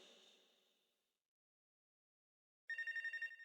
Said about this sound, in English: Okay, we got another phone call.